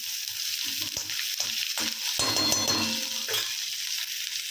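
Ginger-garlic paste sizzles loudly in hot oil with popping mustard seeds, cumin and hing, a continuous close, hissing fry with a few spattering bursts.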